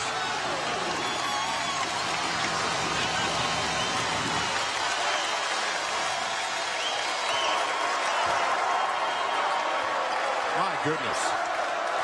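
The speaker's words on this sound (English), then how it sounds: "The crowd absolutely loved it." A basketball arena crowd roaring and applauding loudly and continuously at a Harvard Crimson at Saint Joseph's Hawks game, a dense wash of cheering with a commentator briefly talking over it.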